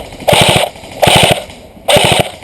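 Airsoft guns fire in three quick bursts during outdoor open play, each burst a loud rapid rattle of several shots with short pauses between bursts.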